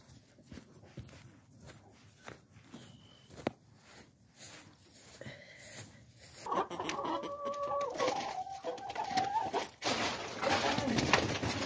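Chickens cluck and chatter on a farm at feeding time. The sound is quiet and scattered at first, then grows into a louder, busier flock with overlapping calls and some footsteps on the ground.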